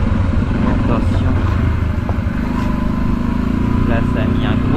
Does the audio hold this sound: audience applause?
no